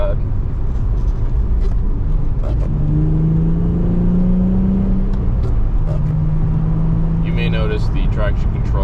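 Nissan 350Z Nismo engine pulling hard under acceleration on cold, wet roads, a loud continuous drone with rising tones heard from inside the car, while someone talks over it.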